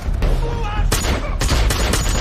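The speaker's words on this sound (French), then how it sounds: "Soudain, il sort une arme et abat presque tous les braqueurs avec une précision d'élite." Dense bursts of gunfire from a film action scene in which a hostage turns on armed robbers, loud and close with rapid overlapping shots and reverberant cracks layered over background score.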